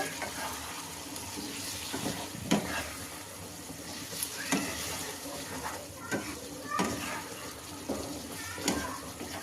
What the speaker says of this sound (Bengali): এখন ভালোভাবে সব মিশিয়ে নেব